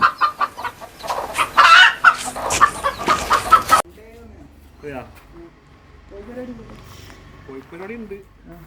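Native country chickens on a home poultry farm cluck and squawk busily nearby, loud at first, then a few softer clucks and calls follow in a quieter stretch.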